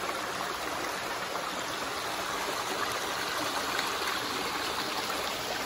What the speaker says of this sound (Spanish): Aquí donde estoy es donde comienza el río.